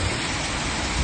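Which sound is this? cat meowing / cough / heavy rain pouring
heavy rain pouring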